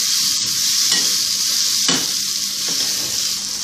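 Apple chaat with butter, black salt, black pepper, red chili powder and sugar being mixed in a pan: a loud, constant sizzle with a few soft scrapes of stirring, no voices.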